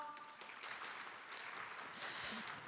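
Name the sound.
audience applause at an opening ceremony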